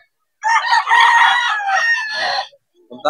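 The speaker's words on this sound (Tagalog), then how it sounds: "yung mga manok nila" Rooster at a chicken market in Bocaue, Philippines, crowing one long, loud, close call, followed by brief clucking from other chickens.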